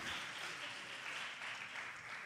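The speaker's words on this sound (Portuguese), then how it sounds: "Uma salva de palmas." A church audience claps together in a brief, steady round of applause, many hands heard evenly throughout with no voices over it.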